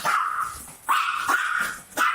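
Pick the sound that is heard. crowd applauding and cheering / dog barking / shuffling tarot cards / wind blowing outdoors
dog barking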